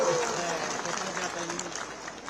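Clapping from a public gathering for Mahant ji, a local legislator in Uttarakhand, forms a steady, dense wash of applause that holds at an even level throughout.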